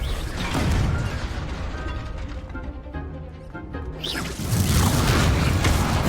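A Confringo spell blast in the Hogwarts Legacy video game, with a heavy boom and crash at the start, mechanical clatter in between, and a second loud burst of noise near the end.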